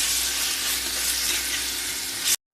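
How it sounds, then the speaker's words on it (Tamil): Ginger garlic paste fries in oil for chicken biryani, giving a loud, dense, steady sizzle that runs unbroken before cutting off abruptly. "நல்லா இந்த ஆயில்லையே நல்லா அதுவும் பச்சை வாசனை போகிற வரைக்கும் நம்ம நல்லா ஃப்ரை பண்ணிக்கலாம்"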